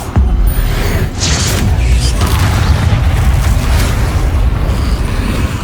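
Confringo blasting spell in Hogwarts Legacy, a loud explosive boom that opens the clip and gives way to a continuous heavy roar and crackle, with further sharp bursts layered into the loud combat noise.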